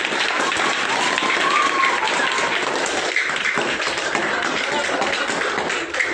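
An audience claps at a talk, a dense, steady wash of many hands applauding together for several seconds, with voices mixed into the crowd noise.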